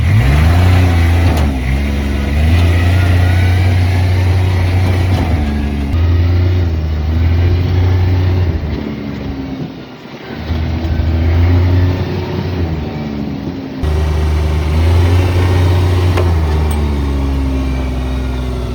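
A small golf cart engine hums and revs continuously up close, pitch climbing and settling as the cart drives along, briefly dipping before surging again.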